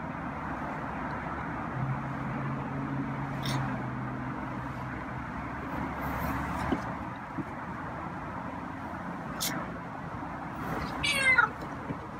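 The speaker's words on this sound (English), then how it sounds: "And he meowed." A feral cat meows a few times, short faint calls standing out above a steady low rumble of background noise, with no talking.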